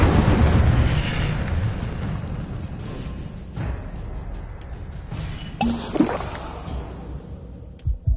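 Fire spell blasts in the Hogwarts Legacy video game: a loud, roaring burst of flame with rumbling explosive booms and several sharper crackling pops over the following seconds, with no talking.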